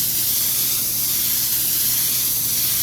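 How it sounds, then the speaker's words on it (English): An airbrush sprays paint in a steady, continuous hiss with no pauses, close and fairly loud, laying down a soft, out-of-focus sepia tone for a detail illustration. "So I'm just going to spray."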